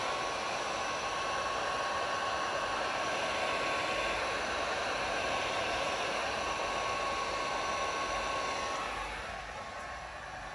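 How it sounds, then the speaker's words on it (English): Heat gun blowing on vinyl chrome delete trim along the window of a 2019 GMC Sierra or Chevrolet Silverado crew cab; a steady, close whooshing hiss with a faint whine that drops slightly near the end, no speech. "I'm going to hit it with just a little bit of heat, just so it conforms a little bit better."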